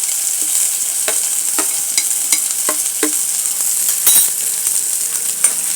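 Curry leaves and ginger garlic paste fry in a pan, a steady sizzle with scattered crackles and soft stirring scrapes, close and alone without talk.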